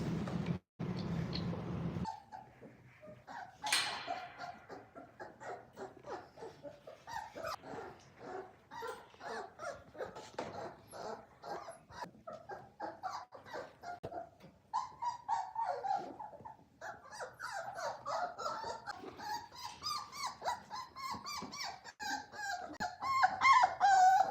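Boerboel puppies whimper, yip and bark up close during a nail clipping, with high whines and sharp barks coming in quick, uneven bursts throughout.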